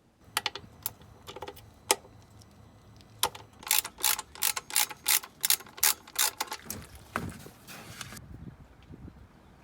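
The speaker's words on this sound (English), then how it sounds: "It's a 13mm bolt, so let's remove it and drain the oil." A ratchet loosens the 13mm oil drain plug on a Mercedes-AMG GLE 43 (W166): sparse sharp clicks at first, then a fast, steady run of loud, close ratchet clicks that stops abruptly.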